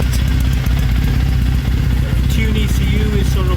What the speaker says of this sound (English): I've started the engine